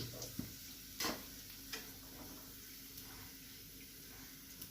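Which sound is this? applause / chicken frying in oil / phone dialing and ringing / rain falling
chicken frying in oil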